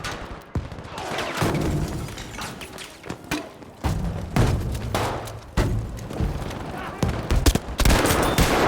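Machine gun fire in Battlefield 5, loud rapid bursts and heavy thumps coming in waves across the whole stretch, with occasional muffled booms mixed in.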